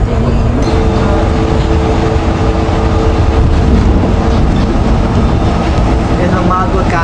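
A boat ride gives off a steady, dense rumble of engine and water noise that runs loud and unbroken throughout, with people talking over it.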